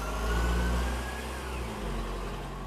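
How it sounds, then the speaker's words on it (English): A truck passes by outside, its engine a low rumble that swells and then fades, with steady background hum and no talking. "Is there another truck coming by?"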